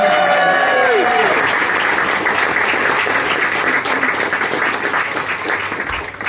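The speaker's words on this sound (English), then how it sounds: "deserves a wee round of applause" Sustained audience applause at a Glasgow strike solidarity fundraiser, loud and dense from the start and tapering slightly toward the end, with a few voices and cheers mixed into the clapping.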